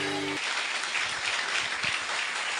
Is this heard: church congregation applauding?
yes